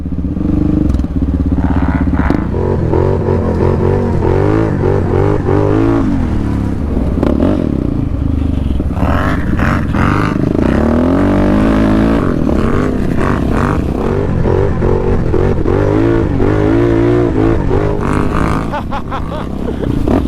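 Loud, continuous engine roar from an ATV revving during a field wheelie, in a Yamaha Raptor 700 versus Can-Am Renegade 1000 rematch, rising and falling with throttle and heavy wind noise, with no talk.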